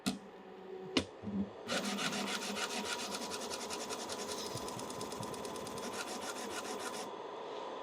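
High-speed 3D printer with a small lightweight extruder buzzes loudly in a steady, rapid rasping whir for several seconds after a couple of sharp knocks, close by with no talk.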